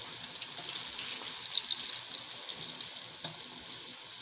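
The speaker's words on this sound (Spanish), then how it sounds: "aquí mi mamá ya las va a echar al aceite, ya las va a dorar" Flautas frying in hot oil in a home kitchen, a faint steady sizzle and crackle with a few small pops, heard alone.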